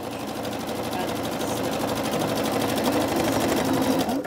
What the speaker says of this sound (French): Je positionne le bord de mon tissu avec le bord de mon pied presseur.